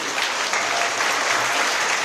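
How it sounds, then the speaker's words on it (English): A banquet audience in Hawaii applauds steadily to welcome Taiwan's President Lai Ching-te to the stage, giving a dense, even wash of many clapping hands with no talk over it. "让我们以最热烈的掌声，欢迎中华民国台湾赖清德总统致辞。"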